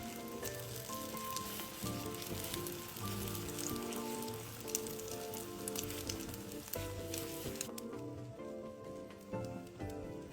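Beaten egg poured into a hot pan sizzles and crackles steadily as the bubbling edges crisp into lace, a continuous close frying hiss with small pops and no talking.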